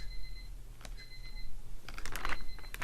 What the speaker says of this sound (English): My crazy alarm